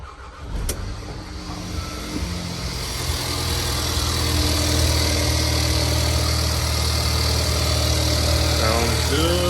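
Mercedes-Benz 2.0L M270/M274 engine cranks and fires up, then settles into a steady, even idle that grows slightly louder and holds, heard up close.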